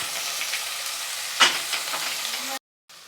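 Onions sizzling in hot oil with mustard seeds and cumin for a cluster beans palya, a steady crackling fry with a brief stir near the middle, then a short silence and the sizzle resumes.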